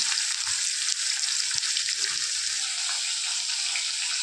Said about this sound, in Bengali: তো মাছগুলো ভেজে নেব।